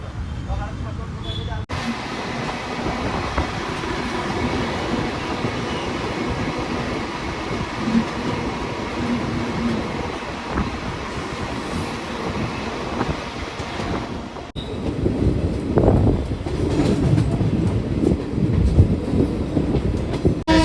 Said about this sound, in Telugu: మన ట్రైన్ 1 minute వచ్చేసి వైట్ ఫీల్డ్ నుంచి అయితే బయలుదేరిపోయింది